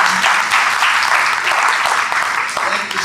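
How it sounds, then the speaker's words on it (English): Audience round of applause after a screening discussion, loud continuous clapping that runs throughout without a break. "Round of applause for the Congress."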